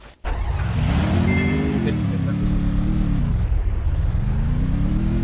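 A vehicle engine in the Free Fire video game drones loudly and continuously, its pitch rising and falling as the vehicle speeds up and eases off during a 1v1 bike race.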